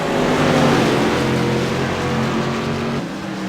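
CRA Tour modified race cars roar around the Southern National Motorsports Park track in a dense, sustained engine drone, loud and steady, with the pitch holding then easing slightly near the end.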